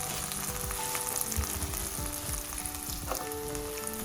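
Chilli powder stirred into onions frying for an eggplant and chickpea curry, giving a dense continuous sizzle with faint spoon scrapes underneath, close and steady throughout, with no voices.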